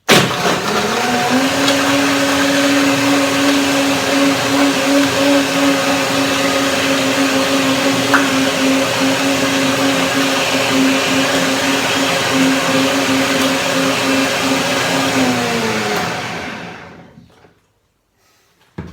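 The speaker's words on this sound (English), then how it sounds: "the smoothie would get warmer from that power blender" A power blender blending a coconut, orange and spinach smoothie with ice whirs steadily and loudly at close range for a long stretch, its steady hum holding even before it winds down and stops.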